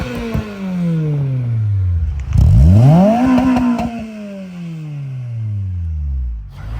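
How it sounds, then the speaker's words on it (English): A 2002–2006 Acura RSX Type-S engine fitted with an Injen short ram cold air intake revs up and back down in long sweeping pulls, loud and close, with a sharp rise and fall in the middle of the run. "you hear that VTEC so well"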